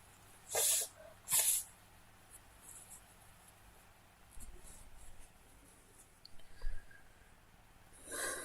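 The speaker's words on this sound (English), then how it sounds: "Just gonna blow my nose." Two short, forceful nose blows close to the mic, followed by quiet rustling and a few soft sniffs.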